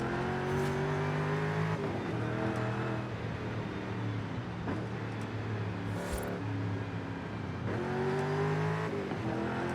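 Forza Horizon 5 game audio of a rear-wheel drive car, its engine droning and revving continuously, with gear shifts marked by repeated rising pitch sweeps as it accelerates.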